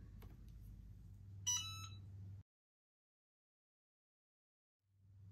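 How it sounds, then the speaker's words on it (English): A Cricut EasyPress heat press beeps once it has finished heating and is ready, a short burst of bright, high tones heard over a low hum that then cuts out into silence. "It'll turn green and make an audible beep when it's ready to go."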